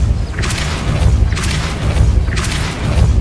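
The Depulso force-push spell strikes in Hogwarts Legacy, three heavy booming thuds with a whooshing edge, spaced about a second apart and loud over a low rumbling game soundscape.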